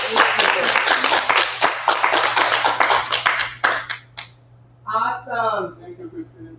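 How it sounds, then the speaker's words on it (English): Audience applause at a Haitian community know-your-rights town hall, a dense burst of clapping that fills the first four seconds, then breaks off as a voice speaks briefly. "Clap it up and thank you."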